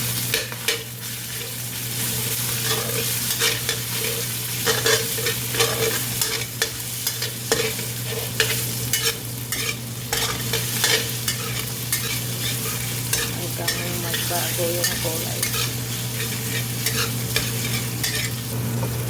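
Steady sizzling of minced pork frying in a pan with garlic, with scraping and stirring throughout; a voice speaks briefly near the end.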